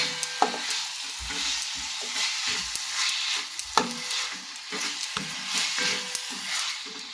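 Grated sweet potato roasts in a pan over medium heat for Gujarati sweet potato kheer, a soft steady sizzle broken by frequent scraping and clacking stirs of a spoon against the pan.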